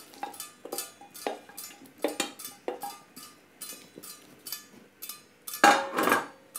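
Beef going into a pot of egusi soup with smoked prawns, heard as a string of clattering metal knocks and scrapes of a spoon against the pot, with a louder stirring burst near the end.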